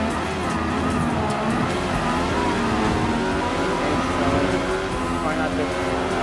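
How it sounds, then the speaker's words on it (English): Mercedes-AMG F1 race car engines roar continuously in Gran Turismo Sport gameplay, a dense steady drone with shifting revs and multiple cars racing, while someone talks over it. "From several of the F1 cars while they're racing."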